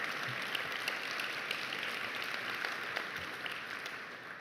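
An audience at an evening remembrance commemoration applauds, a steady, even wash of many hands clapping at moderate distance, sustained without a break and fairly quiet.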